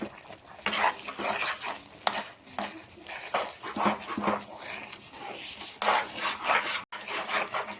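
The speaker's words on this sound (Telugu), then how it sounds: "గ్యాస్ ఫ్లేమ్ మీడియంలో పెట్టుకొని ఒక్కసారి బాగా అన్ని మిక్స్ చేసేసుకోండి." A spoon stirs and scrapes bread halwa mixture with homemade khoa in a pan over a medium gas flame, giving repeated close metallic scrapes and clinks at an uneven rhythm.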